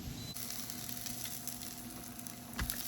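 Potato bread dough sizzling in an oiled hot pan, a soft steady frying crackle with a faint hum underneath, quiet and close, with a slightly louder pop near the end.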